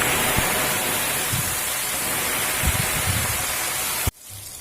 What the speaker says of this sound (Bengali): এখানে দিয়ে দেব বড় সাইজের একটা পেঁয়াজ কেটে